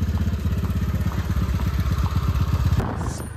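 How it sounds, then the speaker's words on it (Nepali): A scooter engine runs nearby with a rapid, regular putter of firing pulses, fairly loud and even, then eases off slightly at the end. "हामी चाहिँ स्कुटरमा जाँदैछौँ।"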